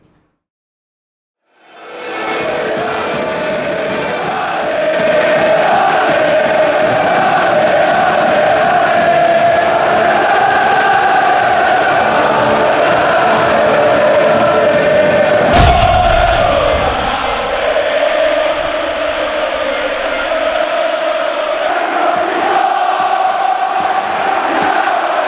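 Napoli football fans in a stadium roar and chant in a loud, continuous mass of voices that swells in and holds throughout, with a brief abrupt break partway through.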